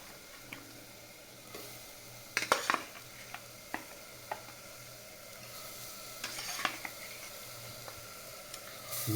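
Chicken dropped into a cooked spice masala in a pan for dhaniya kadai chicken, quiet sizzling broken by clattering spatula stirs and occasional sharp clicks against the pan, close.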